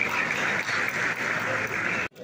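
Audience at an award ceremony in Batman claps in a dense, fairly loud burst that holds steady for about two seconds, then cuts off abruptly.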